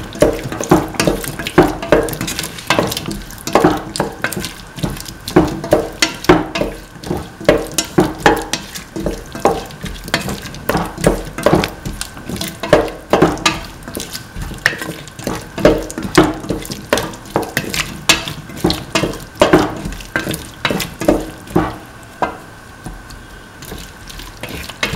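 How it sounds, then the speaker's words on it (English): Kidney bean and potato stew sizzles in a pan under steady, repeated stirring, with close, rhythmic scrapes and clacks of the utensil over a continuous frying hiss and no talking. "Mix and salt thoroughly until it evaporates"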